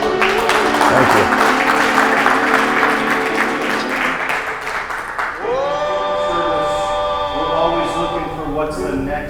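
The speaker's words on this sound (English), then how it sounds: "Let's give him a round of applause." An audience gives a presenter a round of applause, with dense clapping for about five seconds that then dies away as a voice starts speaking over a lingering tone.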